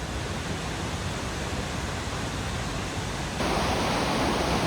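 A waterfall at a Tennessee state park roars as a constant, broad rushing wash, steady and loud with no voices, growing slightly louder near the end.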